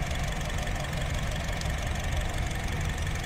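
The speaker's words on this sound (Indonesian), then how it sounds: "Teman-teman bisa dengar suara irama mesinnya." Engine of a 2017 Honda HR-V S with a manual gearbox idling, a steady, even low rumble heard up close and alone throughout.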